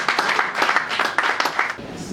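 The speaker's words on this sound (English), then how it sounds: "So clap for yourself." At an association's annual general meeting and anniversary celebration, the audience gives a dense burst of clapping that fades out after about two seconds.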